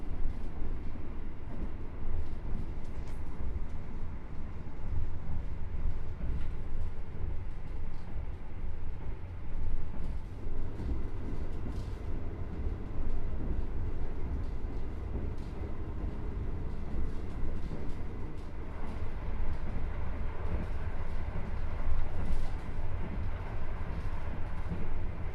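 Argo Bromo Anggrek express train running through Bojonegoro station, a steady loud rumble of wheels and carriages holding evenly for the whole stretch with no talk.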